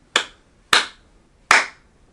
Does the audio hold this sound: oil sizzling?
no